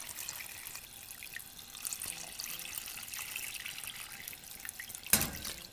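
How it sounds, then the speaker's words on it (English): Water from a tap runs steadily into a pan of caramelized sugar and pork belly, a soft continuous trickle heard up close, capped by one brief sharp clatter near the end. "now I'm going to add just enough water to cover."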